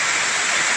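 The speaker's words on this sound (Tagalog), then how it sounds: "It's so early pa, pero ang lakas ng rain." Heavy early-morning rain pours down as a dense, steady hiss, loud and continuous with no pauses, close by as if drumming on a leaky roof.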